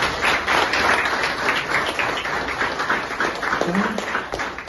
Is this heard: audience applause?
yes